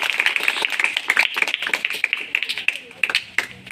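A small audience claps hands in sharp, uneven rapid slaps, close and fairly bright, continuing steadily for a few seconds without a swelling roar.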